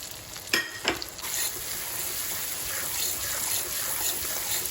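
Coriander and cumin powder fry with tomatoes in a pan for a banana flower curry, giving a steady hissing sizzle after two quick clinks of a spoon at the start.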